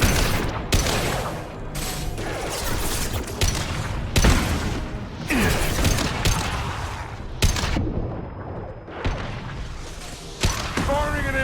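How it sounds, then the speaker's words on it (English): A heavy weapon in Mass Effect 2 fires impact shots, sounding as loud repeated booming blasts and gunfire bursts amid dense battle noise, with voices breaking through at times. "Firing an impact shot."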